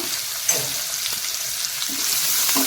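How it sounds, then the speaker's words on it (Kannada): Finely chopped curry leaves and onion fry in oil over a low flame, a loud, steady hiss with occasional soft stirring scrapes and a small pop. "ಇಲ್ಲಿ ಕರಿಬೇವು ಸೊಪ್ಪನ್ನು ಕೂಡ ಸೇರಿಸ್ತಾ ಇದ್ದೀನಿ ಸಣ್ಣದಾಗಿ ಕಟ್ ಮಾಡಿಟ್ಟಿರೋವಂಥದ್ದು ಮತ್ತು ಒಂದಿರುಳ್ಳಿ ಸಣ್ಣದಾಗಿ ಕಟ್ ಮಾಡಿಟ್ಟಿರೋವಂಥದ್ದು ಇದನ್ನೀಗ ಚೆನ್ನಾಗಿ ಎಣ್ಣೆಯಲ್ಲಿ ಫ್ರೈ ಮಾಡ್ಕೊಬೇಕು ನಾವು"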